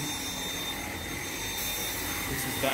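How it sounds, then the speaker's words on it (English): Dyson V7 cordless vacuum running steadily over freshly shampooed carpet, a constant close whirring hum with no speech over it. "This is vacuuming after shampooing."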